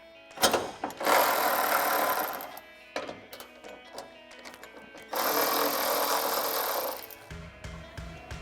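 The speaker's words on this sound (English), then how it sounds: "So I'm taking a 12 millimeter socket to loosen these up." A 12 mm socket on a power tool loosening hood hinge bolts on a 2016-2023 Toyota Tacoma, two sustained whirring bursts with short clicks and rattles between them, close and loud.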